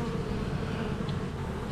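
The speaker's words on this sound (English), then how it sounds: "There's a lot of bees." Dense buzzing of many honeybees fills the clip, a continuous close droning hum with no speech.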